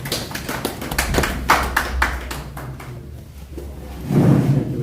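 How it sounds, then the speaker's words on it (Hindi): An audience at a press conference claps to welcome MP Kamaljeet Sehrawat, a short burst of clapping that thins out within a few seconds. A low murmur follows near the end. "एक बार जोरदार तालियों द्वारा सभी उनका स्वागत करें।"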